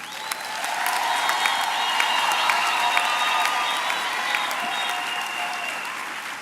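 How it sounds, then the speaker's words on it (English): A graduation ceremony audience gives sustained, fairly loud applause that swells and then holds, while sustained musical tones play underneath the clapping. "they deserve better than the round of applause you gave them"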